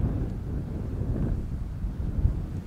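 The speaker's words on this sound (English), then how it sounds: "I've had enough of the wind today" Wind buffets the microphone at an outdoor shooting range, a continuous low rumbling roar with gusty swells, close and steady with no voices.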